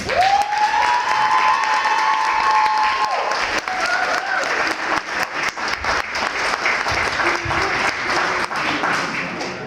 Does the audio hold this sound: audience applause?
yes